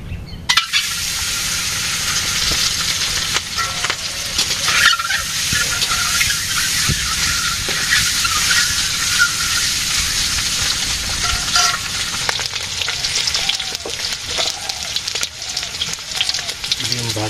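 Eggs fry in hot oil for egg bhuna, a loud continuous crackling sizzle with sharp spits and pops, occasional scraping stirs and faint voices in the background.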